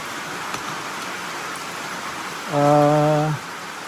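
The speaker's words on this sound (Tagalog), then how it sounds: "lakas ng ulan dito, walang hinto" Steady, dense hiss of heavy rain pouring without a break on a farm, with a short horn-like tone sounding briefly near the end.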